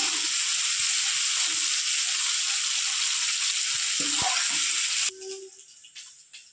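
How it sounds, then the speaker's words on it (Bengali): Prawns fry in hot oil with a loud, steady sizzle for about five seconds, then the crackle drops away sharply to a faint, sparse spitting. "চিংড়ি মাছ আমি ভেজে নিয়েছি, কারণ বেশি ভাজলে চিংড়ি মাছ শক্ত হয়ে যায়"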